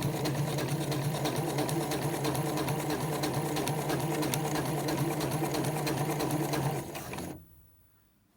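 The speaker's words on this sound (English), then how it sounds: "I'm going to pop over to the sewing machine now" A sewing machine stitching fabric for a makeup bag runs steadily up close, its rapid needle rhythm whirring for several seconds before slowing and stopping.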